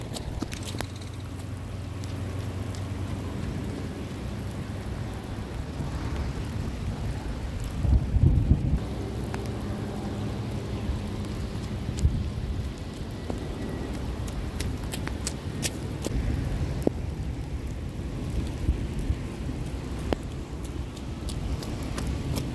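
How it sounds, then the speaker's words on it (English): Heavy rain with thunder, a steady wash of rainfall holding for the whole stretch, with a louder low rumble building about a third of the way in before settling back into the constant downpour. "It's raining pretty hard right now"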